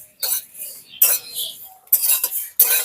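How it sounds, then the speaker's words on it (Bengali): Spices dry-roasting for mango pickle, stirred in a pan in four short bursts of scraping and clinking, each cut off by a brief quiet gap, close by and fairly loud. "আর একটুখানি ভেজে আমি নামিয়ে নেব মশলাটা"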